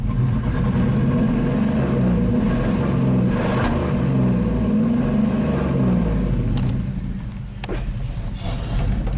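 A 1987 GMC V8 plow truck engine with a stalling fault runs loud and close, its rough low rumble straining under load with uneven surges before sagging near the end.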